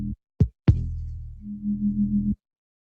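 Synthesized FM sine-wave sub bass plays alone: a few short percussive hits, a longer booming note that decays, then a sustained low tone with a gentle pulsing wobble before it stops cleanly into silence.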